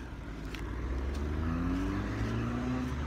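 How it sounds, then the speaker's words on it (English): A car approaching and coming past on a road through woodland at a holiday park, a steady engine rumble with rising tyre noise that swells over three seconds, fairly close. "there's a car coming"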